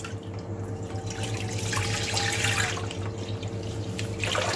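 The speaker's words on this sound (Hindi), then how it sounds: "इसमें दूध डालेंगे।" Milk pours from a container into a freshly rinsed kadai, making a steady liquid splashing and gurgling that runs continuously for several seconds with no talk.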